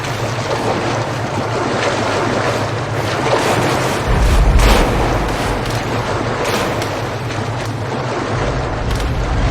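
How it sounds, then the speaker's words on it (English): Rushing water and wind-like wash fill a scene in the video game Metro Last Light, a loud, continuous surging roar that swells briefly midway, with no speech. "Look, water."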